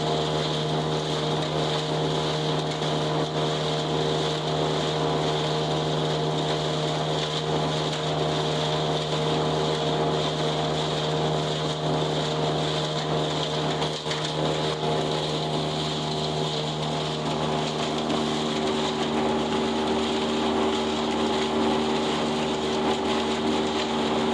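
A hay chopper with worn knives shreds old hay for bedding, giving a steady, loud mechanical drone with constant whirring and faint rattling throughout, with no talking.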